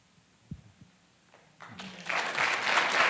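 Audience applause after a question session at a talk, starting faint and scattered then swelling into broad, steady clapping through the second half.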